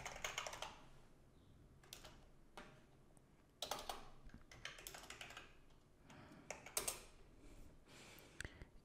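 Someone types a password on a computer keyboard. The keystrokes come in irregular bursts of close, crisp clicks with short pauses between them, at low overall level with no talking.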